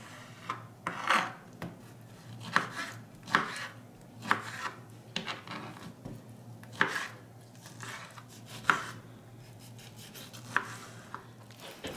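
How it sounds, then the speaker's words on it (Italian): Fresh figs being cut into small pieces with a knife on a board, giving a steady series of soft, close chopping taps with brief scraping between them, with no talking. "Lavo bene bene e asciugo 10 fichi freschi, tagli a tocchetti piuttosto piccoli."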